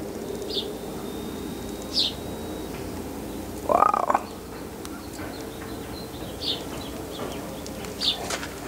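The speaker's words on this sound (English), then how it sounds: "if you heard that bird chirping right there, we do have a lot of birds." Several short, bright bird chirps ring out in a garden over steady outdoor background noise, spaced a second or two apart, with one louder, lower call in the middle.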